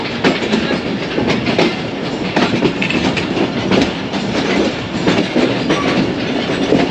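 A train rumbles loudly and continuously with clattering wheel noise at Rawalpindi railway station, close by and without voices.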